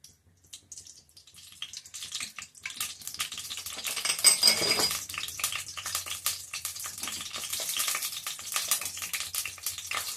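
Hot oil sizzles and crackles in a kadai on a stove, starting quiet and building into a steady, busy frying hiss with a few metallic clinks.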